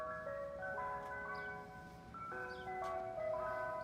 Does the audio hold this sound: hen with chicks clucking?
no